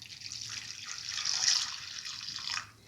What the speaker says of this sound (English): Now pour in the milk that we boiled earlier